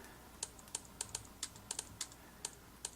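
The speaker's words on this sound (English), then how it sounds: "It also sounds like a traditional clicky keyboard." Crisp, clicky keystrokes on a Samsung Galaxy Tab S 8.4 keyboard, tapped at an uneven pace, about a dozen sharp clicks in three seconds, close up against a quiet background.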